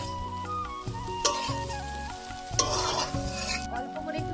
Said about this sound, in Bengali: আর এখানে দেখো পাট শাক ভাজা হচ্ছে